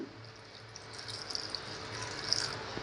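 A little water poured over coriander, garlic, chilies and spices before grinding for a Konkani kokum saar, a soft close trickle and splash growing slightly louder, with no talking.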